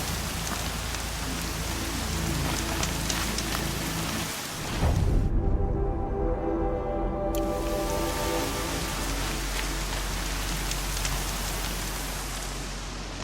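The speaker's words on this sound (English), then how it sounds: "The rain's too loud to hear much." Heavy rain pours steadily in the video game Horizon, a dense, loud hiss of drops on surfaces that runs unbroken and briefly swells with a deeper rumble partway through.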